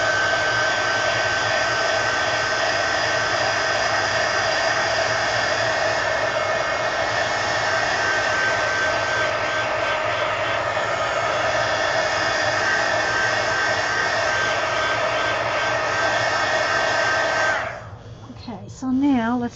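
A dryer blows steadily and loudly for about seventeen seconds to dry a mixed media collage page in an altered book, a continuous close whoosh that cuts off near the end, followed by brief handling noise.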